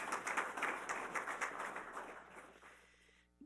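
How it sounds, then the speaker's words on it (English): Conference audience at an Army cyber forum applauding: dense, sustained clapping from a crowd that fades out over a few seconds. "How about a round of applause for those two great cities?"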